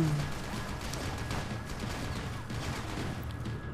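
Gunfire in the shooter game Max Payne 3 rattles through a faint, busy game mix, with scattered shots and impacts over low rumbling background noise.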